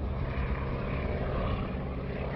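A propeller airplane drones steadily overhead at an air show in Maine, a continuous loud engine hum with no break and no talking.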